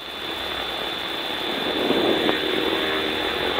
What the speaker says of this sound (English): So the Harvard takes a little while to warm up